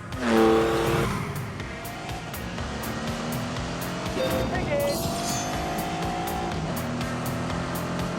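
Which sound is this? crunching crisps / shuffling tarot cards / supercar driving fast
supercar driving fast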